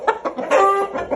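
A young Japanese-breed fighting rooster clucks and calls in a series of short, close bursts, with one longer drawn-out call in the middle and no other sounds.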